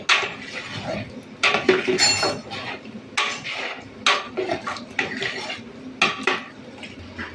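Spices for chicken biryani are stirred in a metal cooking pot: loud, repeated scraping and clinking of a spoon against the pot, in an irregular rhythm, close up.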